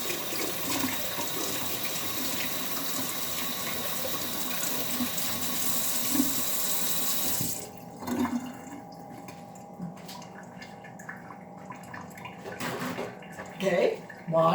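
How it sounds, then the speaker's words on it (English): Running tap water pours steadily as a lemon is rinsed, a broad continuous splash for about seven seconds before the flow stops, followed by quieter handling sounds and a few light knocks. "but first wash your lemon first because it may have bacteria on it."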